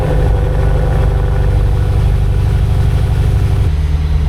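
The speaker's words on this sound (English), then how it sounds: "get this started up for you guys and get you guys a cold start sound clip" A 500 hp Lexus RC F engine cold-starts, running loud and close at a steady, slightly rough idle, then settles to a lower note near the end.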